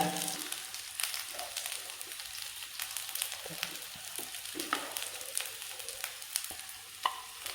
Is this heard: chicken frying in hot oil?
yes